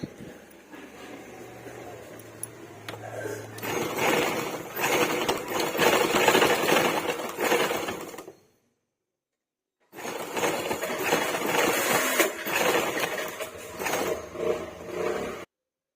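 A sewing machine stitches folded blouse piping in two sustained whirring, rattling runs of about four to five seconds each, close up, separated by a brief silent pause.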